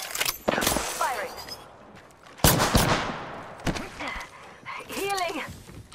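Bursts of automatic gunfire from Apex Legends crack out in several separate volleys, loud and close. Whizzing and ricochet sounds fall between the bursts, with game voice lines mixed in.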